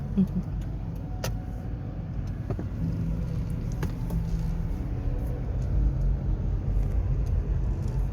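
Cars inching through a traffic jam on a road at an event in Ayutthaya, heard from inside a vehicle as a low steady engine rumble with occasional faint clicks and rattles.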